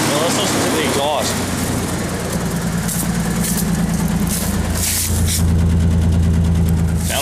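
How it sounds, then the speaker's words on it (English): A Ford truck's exhaust idles with a steady low rumble heard close up for the whole stretch, with no talking. "Now let's listen to the exhaust."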